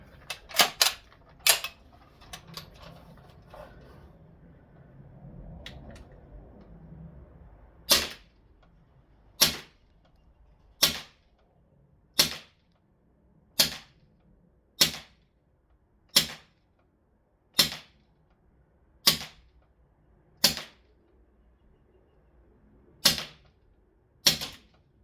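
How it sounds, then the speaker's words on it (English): A Huntsman Arms LK58 FN FAL 4.5mm CO2 airgun fires round after round, sharp loud cracks at a steady pace of about one per second or two, after a few quick shots and some handling noise at the start. "let's load it up and fire a few rounds"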